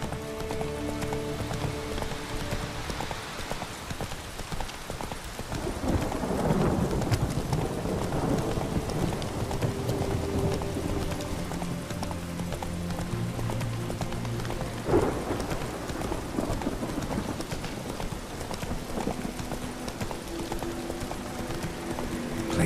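A horse galloping through rain in the video game The Witcher 3, steady rhythmic hoofbeats over a constant rain wash, mid-distance, with no talk.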